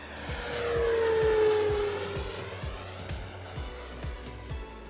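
A giant scale RC Skyraider model warplane flies past, its engine drone swelling and fading with a Doppler-like pitch sweep as it passes overhead, then steadily droning at a distance.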